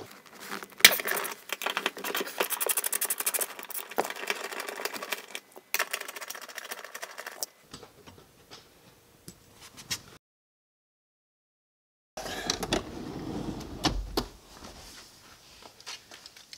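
Ratcheting socket wrench removing 14 mm seat bolts from a 2015-or-later Subaru WRX interior, heard as rapid, steady clicking bursts close by, pausing briefly before a final burst of ratcheting.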